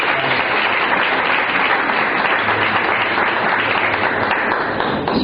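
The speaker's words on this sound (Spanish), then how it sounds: "démosles un fuerte aplauso" A church congregation at a service gives loud, sustained applause, dense overlapping clapping filling the room for several seconds with a few voices mixed in.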